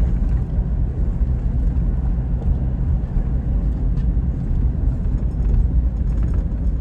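Heavy traffic on the road from Pampanga to Baguio in the late afternoon, heard as a continuous loud rumble of many vehicles with faint passing noises and no talking.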